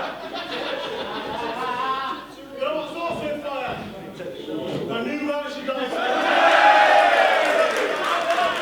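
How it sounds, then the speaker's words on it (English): A large crowd roars and cheers, with a commentator talking over it; the noise swells louder toward the end. "The crowd here firmly behind a man like Dereiss."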